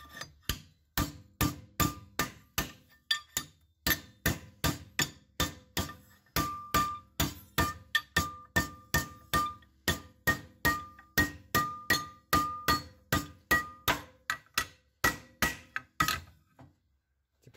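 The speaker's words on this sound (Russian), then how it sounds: "Изгибаю по кругу, делаю конус." A hammer strikes steel sheet being bent into a cone in a long run of sharp, evenly paced metallic blows, close and loud, some ringing briefly, with no talking throughout.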